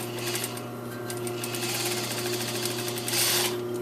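A sewing machine runs in a fast, even rhythm while edge stitching along a fly zipper facing, close and continuous, its pace rising briefly near the end.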